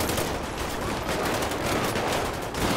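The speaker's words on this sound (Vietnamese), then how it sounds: "Đó các bạn nghe tiếng súng nó khác ghê chưa" Rapid, sustained gunfire from MK2 weapons in the video game GTA 5 rattles continuously and densely without a pause, and no voices are heard.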